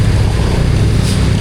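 A motorboat speeds through open water, its engine a loud low rumble blended with the rushing wash of water against the hull, close and steady for a brief moment.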